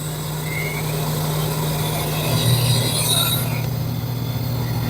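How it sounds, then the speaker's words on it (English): A lens generator machine cutting a prescription lens, with cool air blowing on it to keep it from overheating: a loud, steady mechanical hum with an airy hiss layered over it, unchanging throughout. "All that noise you hear is cool air blowing on it so it doesn't overheat"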